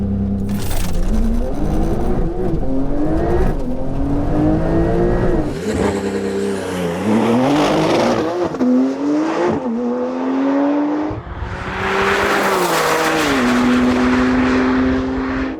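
Yamaha R1 superbike on a drag run, its engine loud and close, revving up through rising pitch sweeps with several gear shifts and steady acceleration across the whole run, no talking.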